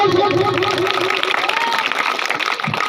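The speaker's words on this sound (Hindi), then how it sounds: "ताली मारते हैं जोर से" A crowd at a street exercise circus show claps and cheers loudly and continuously, a dense mass of applause and hubbub with voices mixed throughout.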